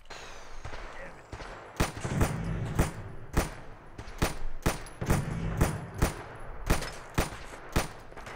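Sharp, loud gunshots ring out in the video game Fallout 4, fired singly at a steady rhythm of roughly one per second over a rumbling background, with some talking mixed in.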